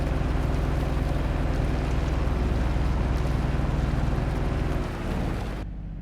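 A John Deere Gator utility vehicle idles steadily in Farming Simulator 22, a low droning engine hum held at constant level, close and alone, dropping slightly near the end.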